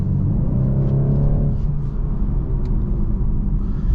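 A 2023 BMW 230i in Sport Plus accelerates onto a highway with a steady, loud engine rumble and road noise, the engine note rising briefly early on before settling into a constant drone.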